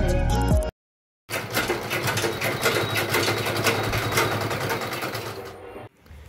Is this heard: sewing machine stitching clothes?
yes